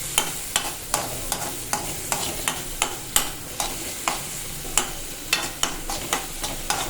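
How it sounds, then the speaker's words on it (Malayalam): Chopped onion stirred in a pan for pappada thoran, a spoon scraping and tapping the metal in a steady rhythm of about two strokes a second over a light sizzle, close and clear with no talk. "അരിഞ്ഞ സവാളയും ഇടാം ഇതൊന്ന് ഇളക്കി കൊടുക്കാം"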